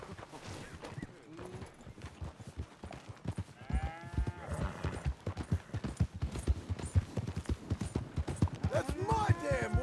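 Horse hooves clip-clop steadily on the ground in the Red Dead Redemption 2 video game, a quick even rhythm running throughout under voices talking, with a horse whinnying midway and again near the end.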